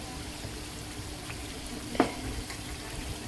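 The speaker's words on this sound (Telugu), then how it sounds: "చూడండి చికెన్ వేగిపోయింది." Chicken pieces fry in oil for a chicken pickle, a soft continuous sizzle and bubbling with a brief clink or scrape midway, fairly quiet and steady.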